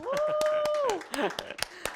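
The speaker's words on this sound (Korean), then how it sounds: "모든 분들이 그 자리에서 박수 쳐주실 거라 믿습니다" A small audience claps at a close-up magic show, steady separate claps punctuating a performer's speaking voice.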